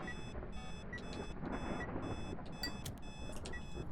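A repeating electronic alarm beeps in Phasmophobia, short high tones pulsing in bursts over a steady hum of background noise, with no voices.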